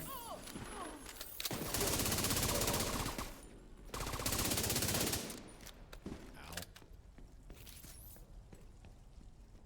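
Two turrets in The Division 2 fire loud, sustained automatic bursts in two long volleys, followed by scattered shots, footsteps and game noise, with talk intermittently over the action.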